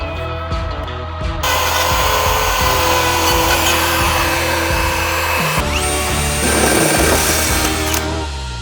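A router cuts holes in a drywall sheet with a loud, continuous high-pitched whine and grinding buzz that shifts pitch as the bit moves through the board, close and alone.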